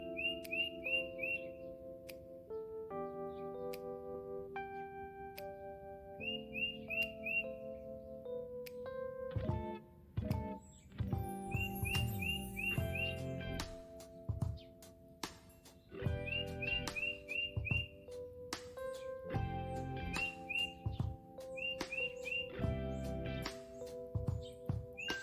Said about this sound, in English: I'm just going to take a moment and just let you guys listen to the birds and the nature calls